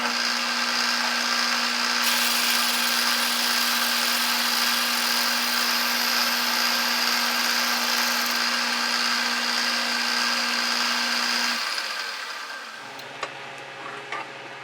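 A 3/8 drill bit bores through the steel boss of a mill vise hand wheel, giving a steady, loud machine whine with a constant hum for about twelve seconds before the cut ends and the sound drops to a low idle.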